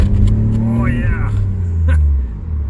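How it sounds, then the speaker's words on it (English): A supercharged Mazda engine with a leaking fuel pressure regulator pulls hard, a loud, close, steady low rumble from inside the car with a rising whine, while someone speaks over it. "You can hear that supercharger going."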